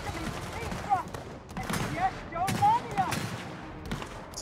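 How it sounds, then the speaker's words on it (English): Battle rifle fire in the Gears of War 4 campaign, several short bursts of shots over busy in-game action with a voice talking beneath them. "It's not a receiver shot. It's a battle rifle."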